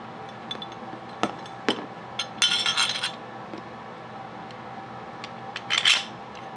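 Metal retaining bolt being taken out of a bike bottom bracket, with scattered light metallic clinks and taps and two short bursts of jangling parts, close and fairly quiet.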